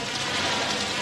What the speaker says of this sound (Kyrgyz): карачы, күн күркүрөп, жагылган чартылдап, жамгыр жаап, бороон башталды